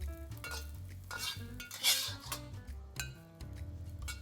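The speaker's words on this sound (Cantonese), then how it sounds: "個雞蛋咧，我哋要稍微炒老身啲" Eggs stir-fried in a wok over high heat and cooked a little firm before fried rice noodle rolls go in: repeated spatula scrapes and metallic clinks close by, over steady low background music.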